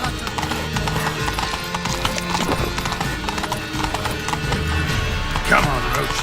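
Roach the horse galloping in The Witcher 3, steady clip-clop of hooves throughout with a whinny near the end, under shouting voices and talk.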